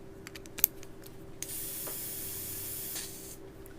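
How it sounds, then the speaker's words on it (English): Paint sprays through a stencil template in a steady, close hiss that lasts for about two seconds, with a few light taps and clicks before it and no talking. "what I would do is I would spray through this"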